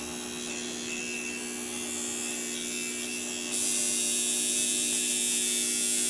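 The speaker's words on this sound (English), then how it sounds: "And that's pretty much what your machine should sound like." An adjusted tattoo machine runs continuously, a close steady electric buzz and hum that brightens and grows louder partway through.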